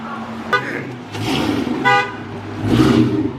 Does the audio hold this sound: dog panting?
no